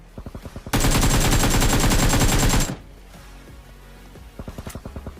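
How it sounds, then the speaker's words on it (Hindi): Gunfire in a solo-versus-squad battle royale video game: a long, loud, rapid automatic burst in the middle, with short bursts of single shots just before and after it. "भाई ये बंदे क्या फायरिंग कर रहे हैं"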